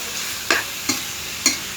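Pounded chili paste frying in a pot for a Thai pork curry with kapok flowers, a low steady sizzle broken by three short scraping stirs, close and alone.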